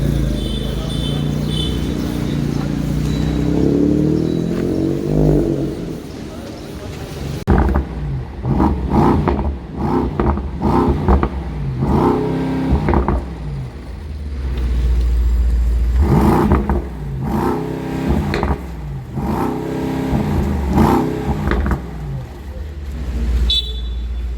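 A modified Volkswagen Polo drives past nearby, its engine revving in several rising and falling surges over a steady traffic rumble, with a horn-like toot among the engine noise.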